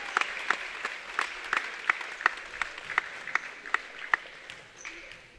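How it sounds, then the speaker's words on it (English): A small crowd in a high-school gymnasium claps for a basketball player's milestone, a sparse, steady rhythm of distinct individual claps spread across the room, echoing slightly and tapering off near the end. "All around the gymnasium, Luis Rodriguez getting claps for the milestone he accomplished tonight."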